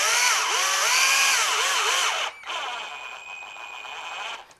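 A power drill with a Phillips bit drives a fitting through a tight hole, whining loudly with its pitch rising and falling under load, then running on more smoothly before it stops.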